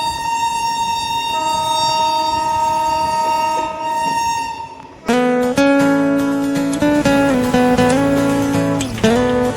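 A passenger train pulls out of Durgapur station, its loud sustained horn sounding continuously and then swelling into a stronger, layered blast for several seconds, with no talk.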